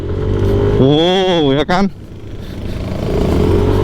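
A new Yamaha NMAX 155 scooter engine revs up loudly, its pitch climbing and wavering before cutting off sharply. A person speaks briefly over the engine, and a lower idle continues afterward.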